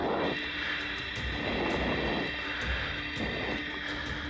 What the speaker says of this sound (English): That's the engines of aircraft.